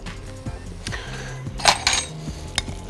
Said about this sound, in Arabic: لما بتنزل بالسباتولا كده وتبتدي نكحت في الطاسه